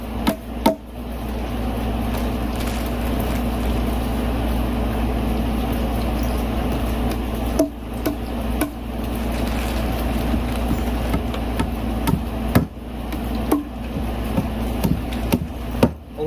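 Wooden dowels are hammered into a log for growing mushrooms, a handful of sharp, irregularly spaced strikes ringing out over a steady low engine-like drone.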